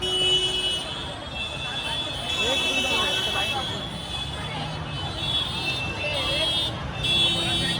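Vehicle horns honk repeatedly over busy street noise and a dense Ganpati festival crowd in Mumbai, waiting in line near Chinchpokli, with people talking nearby throughout.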